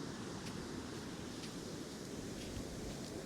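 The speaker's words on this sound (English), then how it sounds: "quite a lot of surf here tonight" Winter surf breaking on Bournemouth beach at night, a steady, loud, unbroken roar of waves and wash with no voices.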